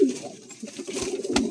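A Lakhori pigeon coos softly in low, throaty bursts, close by, with a faint rustle in the background.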